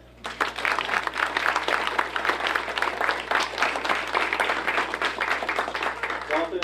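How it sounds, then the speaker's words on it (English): A school board meeting audience gives a sustained round of steady, dense clapping from a room full of people, honoring service to public education. "One more round of applause."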